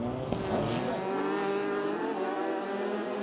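A Ford Fiesta N5 race car on an ice track drones with a sustained engine note that rises and shifts in pitch as it accelerates, holding loud and close throughout.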